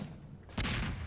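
A single sharp gunshot in a Prop Hunt video game, fired at oranges, bursts suddenly after a half-second of quiet and leaves a brief reverberant tail.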